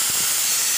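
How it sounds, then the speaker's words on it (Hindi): Moong dal roasting in a kadhai gives off a steady, loud, close sizzling hiss with no pauses and no voices. "इसे अच्छी तरह से रोस्ट कर लेंगे, कढ़ाई में फ्राई कर लेंगे। आप मेरा मूंग का दाल रोस्ट कर रही हूँ"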